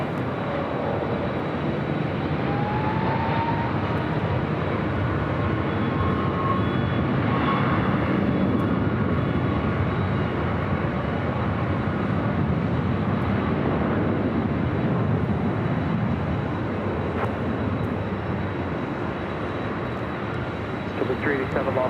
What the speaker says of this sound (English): Arnett Del Rey, 24 left, clear for takeoff